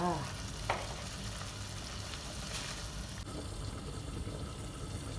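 A pot of Thai chicken curry with winter melon bubbles at a steady boil, a continuous close bubbling and hissing with a brief clink near the start and no talk over it.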